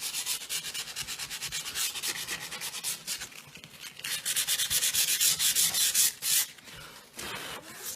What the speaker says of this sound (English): take a corner of the sandpaper, come in, and do it a little heavier until your wood shows through